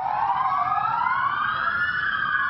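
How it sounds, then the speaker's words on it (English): Hurricane warning sirens at a resort during Hurricane Patricia give a steady wailing tone that slowly rises in pitch, loud and continuous throughout with no voices. "The women said the hurricane sirens began this morning."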